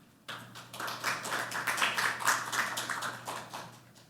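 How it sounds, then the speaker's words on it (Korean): An audience at a National Assembly seminar in Korea claps to welcome a company executive to the podium, a modest, moderately distant round of applause starting abruptly and tapering off over a few seconds. "큰 박수로 대표님을 맞이해 주시기 바랍니다"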